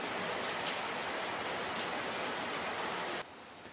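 Heavy monsoon rain pouring down, a dense, even roar of falling water close by that drops abruptly in level near the end, no voices.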